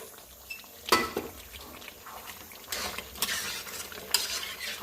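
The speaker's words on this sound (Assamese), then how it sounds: "মই ইয়াতে অকণমান পানী যোগ কৰিম। মই উতলা গৰম পানী লৈছোঁ।" Hot boiled water poured into spinach chicken simmering in a pan, a soft, close wash of pouring and sizzling broken by a few sharp clanks and scrapes of utensils.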